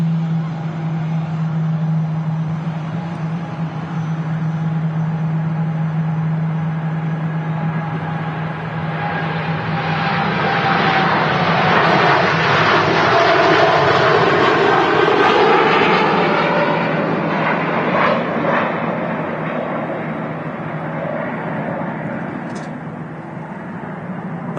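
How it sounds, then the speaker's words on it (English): A TUI Boeing 787-9 Dreamliner takes off from Manchester Airport bound for Bridgetown, Barbados, its jet engines a steady loud roar that builds and swells at mid-climb, then eases slightly as it departs. "TUI Dreamliner 787-9 heading off to Bridgetown,"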